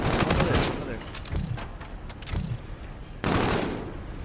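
Bursts of automatic gunfire in a 3v3 search-and-destroy shooter match rattle loudly at the start and return abruptly near the end, with quieter scattered shots and a voice talking between them.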